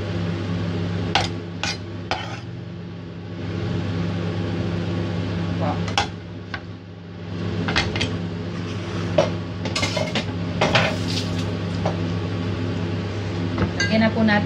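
Hairy gourd stuffing is mixed into minced pork in a bowl, with repeated clinks and scrapes of a utensil against the bowl over a steady low kitchen hum.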